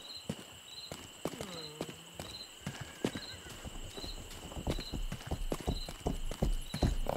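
Horse hooves clip-clop steadily in the video game Rustler, a brisk rhythmic trot with periodic game chimes, a brief whinny-like tone and a voice talking over it.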